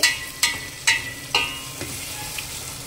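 Penne pasta ingredients fry in a pan on low-medium heat, giving a moderate sizzle broken by several sharp scraping stirs of a spoon against the pan at a regular pace.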